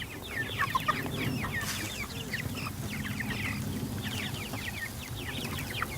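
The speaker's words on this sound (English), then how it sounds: "So you can see the chickens swarm because I don't care if I make a mess." Chickens cluck steadily as a flock swarms scattered feed near a tractor, layered calls and chatter close by, with a continuous low rumble underneath throughout.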